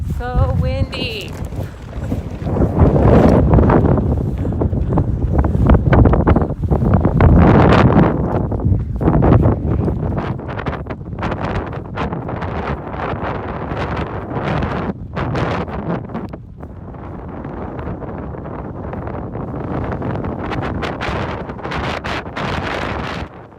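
Strong wind buffets the microphone on an open New Mexico road walk along the Continental Divide Trail, loud gusty roaring that swells and eases in waves, with a person speaking at times beneath it.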